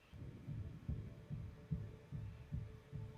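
A steady heartbeat pulses in a TV show, locked in time with a drum beat, each soft low thump repeating evenly for several seconds.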